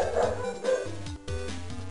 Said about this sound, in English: I'm sure you hear my dogs barking in the background.